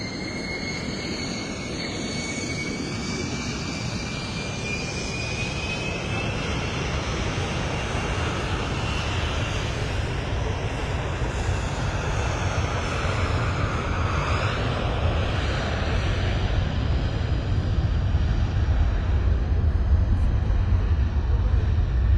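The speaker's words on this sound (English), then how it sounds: "if you can hear the engine whirring, that's the flight that's taking His Excellency to France" Passenger jet on an airport tarmac ahead of taxi and takeoff for a presidential flight to France, a loud broad engine roar with a thin high whine that rises and fades, growing steadily stronger throughout.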